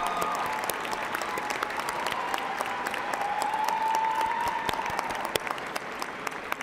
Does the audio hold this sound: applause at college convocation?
yes